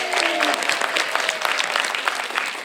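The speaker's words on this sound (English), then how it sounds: "Polite applause." An audience at a Senior Center panel event claps politely and steadily for a few seconds, a dense even patter with no voices.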